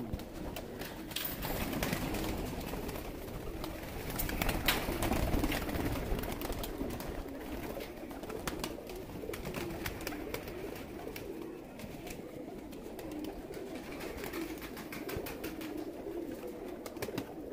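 Pigeons coo faintly and steadily in the background over a rustling, noisy ambience, soft repeated throaty calls continuing throughout.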